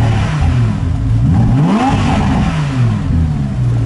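An Audi R8 V10 RWS revs on an empty military airfield, its engine note climbing and falling in loud, close, continuous sweeps with no talking.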